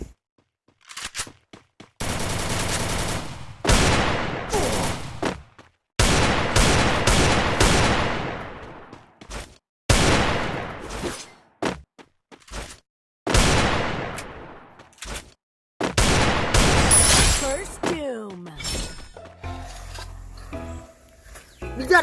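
Gunfire in a shooting video game, several loud bursts of rapid shots and single cracks spread across the clip, separated by brief silent gaps, with no talk over them.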